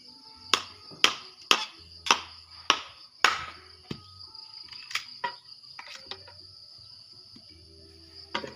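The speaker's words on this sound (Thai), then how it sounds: "จักตอกครับ" A knife splits bamboo into strips with a series of sharp, evenly spaced cracking chops, about six in a row, followed by scattered lighter taps and scrapes.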